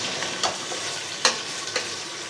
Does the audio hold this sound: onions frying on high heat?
yes